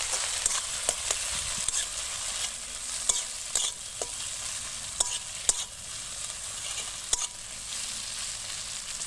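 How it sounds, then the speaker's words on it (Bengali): Masala paste of ginger, garlic, green chilli and tomato sizzles and fries in a pan while being stirred, a continuous close hiss broken by sharp spoon scrapes and clinks at irregular intervals. "ভেজে নেবো মশলাটা।"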